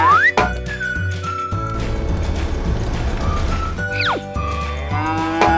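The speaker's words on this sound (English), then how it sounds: "Hey cow, go inside the cage now." A toy-farm cartoon cow moos several times in long, loud, tonal calls, mixed with background music and a few whistle-like sliding notes.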